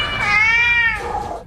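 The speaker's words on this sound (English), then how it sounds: "around 100 cats inside crates and boxes" Several cats meow loudly and continuously inside an RV, crowded into crates and boxes, their overlapping cries rising and falling close to the listener with no talk.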